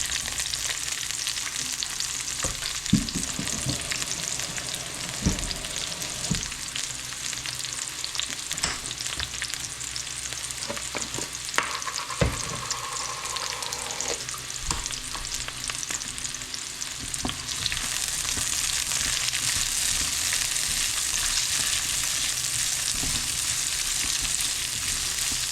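Onion sautéing with garlic in a hot pan for pork pata kare-kare, a steady close sizzle with occasional stirring scrapes and clinks throughout, swelling louder toward the end.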